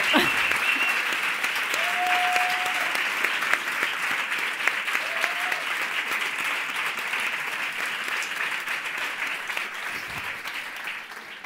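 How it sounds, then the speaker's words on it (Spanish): An audience gives actress Candela Peña sustained applause at an in-person talk, a dense, even roar of many hands that holds steady for the full length, with brief whistles or cheers rising above it. "Quería pedir un fuerte aplauso para Candela Peña"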